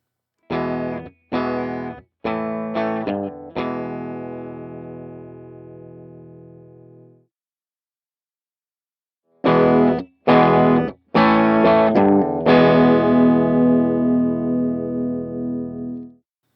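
Electric guitar played through an Amplitube amp model with distortion: a few short choppy chord stabs, then a long ringing chord that fades, a pause of silence, and another set of stabs ending in a sustained distorted chord.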